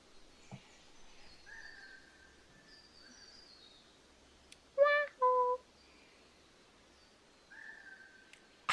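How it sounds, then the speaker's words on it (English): Birds call in the Australian outback area of San Diego Zoo. Scattered thin whistles give way to a short burst of loud, stacked calls midway, then quieter whistled notes return over faint background murmur. "It sounds like the bird's going, Yahoo!"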